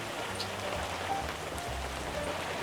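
Steady rain pours down in the video game Webfishing, an even, continuous hiss of falling water held at a constant level with no voices over it.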